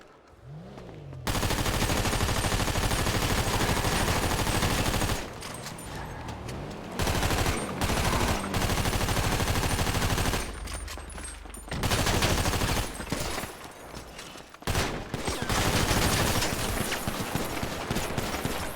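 Rapid bursts of gunfire in the FiveM game, loud and dense automatic volleys in several long stretches separated by brief pauses, with no talking.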